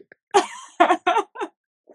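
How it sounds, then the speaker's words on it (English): Several harsh coughs in quick succession, close and loud, with short pauses between bursts and a faint final cough trailing off. "Sorry, I'm like trying to talk, but I keep coughing."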